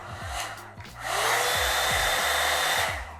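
A hot air brush hair dryer blows on one of its three settings, starting with a softer whirr that dips, then swells into a steady, louder rushing of air and motor hum.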